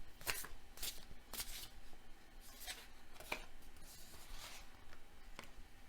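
Astrology cards handled and shuffled, soft repeated riffling swishes at a steady pace, close yet quiet over a faint background hiss with no talk.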